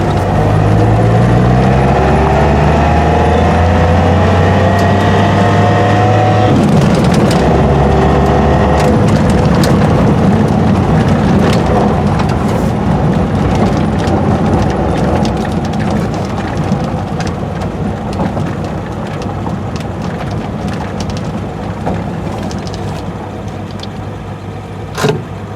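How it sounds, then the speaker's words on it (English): A 1971 Triumph TR6 idles with a loud, close engine drone while the clutch is pressed and released, the pitch shifting as transmission noise comes and goes, with no talk over it. "So that's me dropping the clutch, that's me releasing the clutch."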